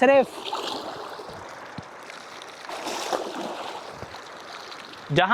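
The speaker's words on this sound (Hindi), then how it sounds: "सिर्फ ये आवाज़ है और मेरी आवाज़ है, इस ताइफ के सुनसान वादी में इस पानी की खामोश आवाज़ और मेरी गूंजती हुई आवाज़ है।" Water flows with a soft, steady rush through a quiet, deserted valley in Taif, Saudi Arabia, holding an even wash throughout while someone speaks over it.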